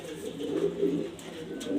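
Afsan Sundori pigeons of grizzle colouring coo in a low, continuous burbling run at close range, with a faint hiss of room noise around them.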